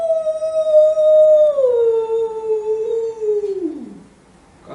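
A storyteller's voice imitating an animal's howl, one long sustained wail sliding gradually downward in pitch before trailing off, loud and close.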